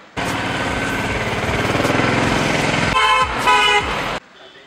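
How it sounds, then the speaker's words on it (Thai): In street traffic in Imphal, Manipur, a loud car horn blares almost continuously for about four seconds, with engine rumble beneath and a few short toots near the end before it cuts off. "ปกติเสียงมันจะแบบ แตรเสียงรถดังกว่านี้นะ"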